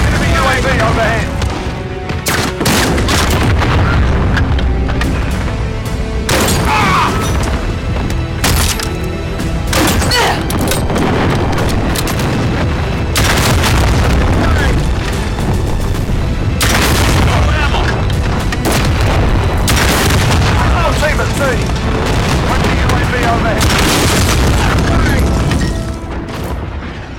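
Cruise missile strikes in a Modern Warfare shooter game: a dense barrage of heavy booms and rumbling blasts over sustained gunfire, with repeated strong impacts and voices heard amid the chaos.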